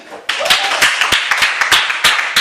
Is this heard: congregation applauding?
yes